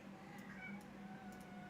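Faint meows from a pet cat named Coco, a couple of short wavering calls at a distance over a steady low indoor hum.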